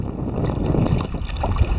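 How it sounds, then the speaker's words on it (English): A kayak paddled on open water, with soft splashes and water washing under steady wind buffeting the microphone, continuous and fairly loud, with no talking. "Still trying to learn to paddle with my core muscles as opposed to just my arms."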